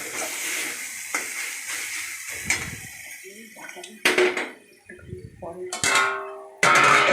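Spice masala and chicken mince being stirred and sautéed in a pan for a chana masala dish: a spatula scrapes and clatters against the metal in uneven bursts over a low sizzle, close by.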